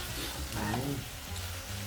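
Pork pieces frying in a hot pan for a Thai stir-fry, a steady close sizzle with some scraping or stirring partway through, and faint low voices in the background.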